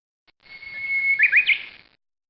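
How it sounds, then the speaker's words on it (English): A single bird chirps briefly, a thin whistle rising into quick trilled notes, close and clear against a quiet background. "Bird's nest."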